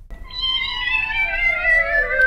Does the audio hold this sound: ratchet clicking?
no